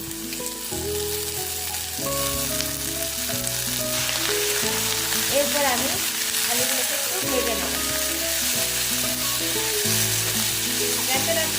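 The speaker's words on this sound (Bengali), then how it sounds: "মিডিয়াম করে আমি আলুগুলো ভেজে নেব" New potatoes, washed and cut, frying in a pan at medium heat: a continuous close sizzle heard under steady melodic background music, with occasional stirring noise.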